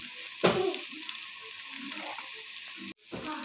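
Turmeric, red chili powder and Everest paneer masala sizzle in hot oil, a steady close frying hiss with a brief stirring clatter near the start and a short pause before the sizzle resumes.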